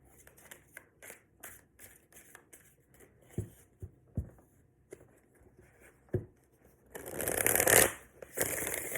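Tarot cards being shuffled by hand, with quick papery riffles and soft taps in irregular bursts, close and fairly quiet, building to a denser rustling flurry near the end.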